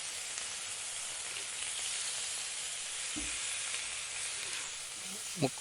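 Green chillies and curry leaves sautéing in hot oil give a steady, fairly quiet hiss and sizzle, with a couple of faint stirring knocks near the end.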